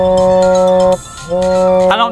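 A mobile phone rings loudly and close with a bright, tonal ringtone for an incoming call from an unknown number, sounding in two bursts separated by a short pause.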